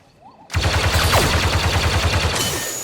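Blaster fire in Star Wars Battlefront 2 during an Ewok Hunt match starts abruptly from near quiet as a loud, rapid, evenly pulsing stream of shots. It holds for about two seconds, then eases slightly at the end.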